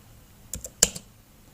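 A few quick keystrokes on a computer keyboard, about four soft clicks in a brief cluster, close and quiet against a near-silent room.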